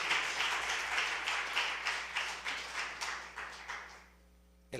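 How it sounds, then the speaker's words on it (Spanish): A church congregation claps together in steady, dense applause that holds for about four seconds, then thins and fades, leaving a quiet room. "Dale un aplauso a Jesús por esta palabra"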